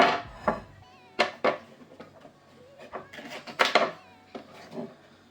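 A knife chopping green onions strikes a board in a handful of sharp, uneven chops with short pauses between them, close by and fairly loud.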